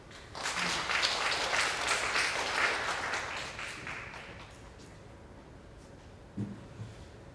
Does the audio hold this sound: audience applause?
yes